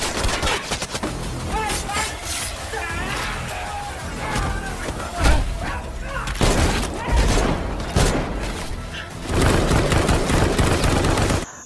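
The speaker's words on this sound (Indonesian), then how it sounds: "Adegan pun beralih pada Mbak Yu yang lihai menembaki para penjaga." Gunfire from a film scene in which a trained soldier shoots down guards, dense bursts of shots and crashes mixed with music and effects, loud throughout and intensifying toward the end.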